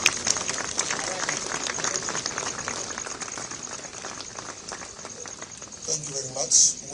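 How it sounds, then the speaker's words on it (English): Applause for His Excellency at a formal ceremony in Pretoria, a dense patter of clapping from a crowd that fades slightly then swells again near the end. "Can we give another round of applause to His Excellency?"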